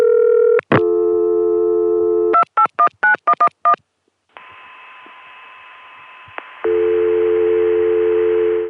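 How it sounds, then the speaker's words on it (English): PBX dial tone on an old ConTelNet CCSA phone network after an inside code is dialed: a steady tone, a burst of rapid touch-tone digits, a brief silence, then a fainter tone and a loud steady dial tone returning. "this is the very same dial tone that people in the Richmond office get when they dial 9 for an outside line"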